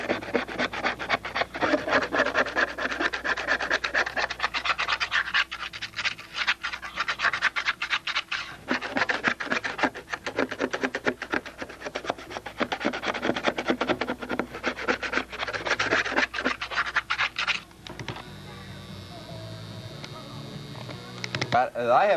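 A credit card held at a 45-degree angle scrapes hardened paint in rapid, repeated rasping strokes, close and steady, before easing into a quieter stretch near the end.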